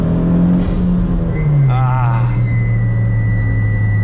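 A Mitsubishi Evo drives with a steady engine drone. Midway a short fluttering chirp from the turbo blow-off valve rises over it, and the engine note then drops lower.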